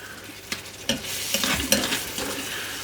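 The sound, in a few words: stirring fermented sauces into cowboy beans pot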